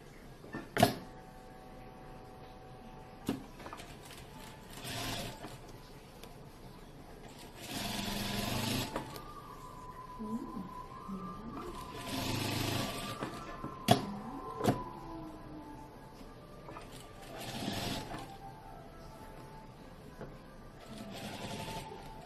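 A sewing machine stitches a patch onto a baby frock in several separate runs of steady mechanical whirring, each a few seconds long, with quieter handling noises and faint clicks between them, close but soft.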